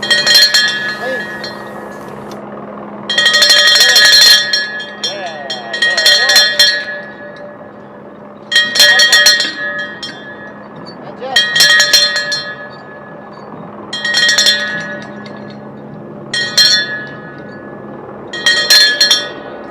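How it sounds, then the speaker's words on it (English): A bell is rung enthusiastically in repeated bursts of bright metallic clanging at a space launch site, several loud rounds of rapid ringing separated by short pauses over a steady background hum. "Those were some enthusiastic bell rings right there."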